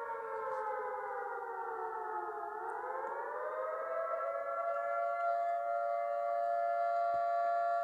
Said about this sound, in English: See, it does have a cool sound effect